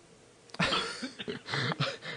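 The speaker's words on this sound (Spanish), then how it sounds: "Ahí lo oigo toser, señor." A man coughs close to a phone line, giving a short burst of several rough coughs and throat-clearing sounds in a radio comedy call.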